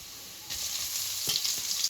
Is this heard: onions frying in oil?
yes